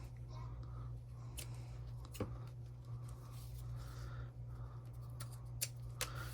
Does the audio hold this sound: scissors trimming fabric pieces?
yes